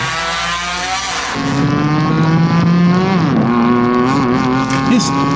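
An engine roars at high revs, then its pitch climbs steadily as the vehicle accelerates hard, loud and close, with a brief dip before rising again.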